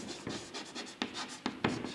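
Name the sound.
writing on a board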